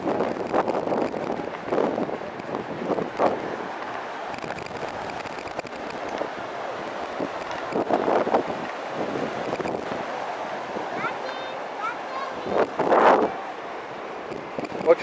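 Strong wind buffets the microphone at a seaside beach, with rolling sea waves surging underneath; gusts swell and fade repeatedly over the stretch, and people speak intermittently.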